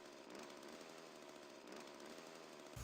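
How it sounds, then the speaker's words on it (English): A chainsaw engine drones in Ride To Hell: Retribution, a continuous buzzing motor running steadily for the whole stretch with no music or other effects behind it, and a brief louder burst right at the end. "You can hear the chainsaw."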